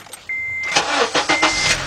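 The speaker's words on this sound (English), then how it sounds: "what I'm going to do is start the car up" A 2007 Acura TSX with the 2.4-liter engine, check engine light on and code P0133, starting up: a short crank followed by the engine catching and revving into a close, loud idle.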